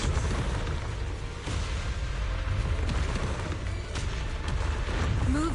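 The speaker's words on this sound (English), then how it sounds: "Move in during the gaps between explosions." Explosions in the Zenless Zone Zero video game keep booming through a dense, constant rumble, with a few sharper bursts standing out from the loud continuous barrage.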